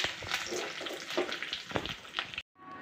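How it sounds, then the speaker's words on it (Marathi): Curry leaves spit and crackle in hot oil with mustard seeds for a tempering, with quiet irregular sputters close by before the sound cuts off abruptly near the end. "याच्यामध्ये 5 ते 7 पानं कढीपत्त्याचे टाकणार आहे आणि गॅस बंद करून घेणार आहे।"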